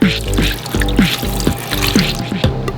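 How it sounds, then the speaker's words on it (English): Water pours into a blender jar holding potatoes, a close, gurgling stream with rhythmic glugs and splashes repeating through the pour, alone without speech. "Then add some water."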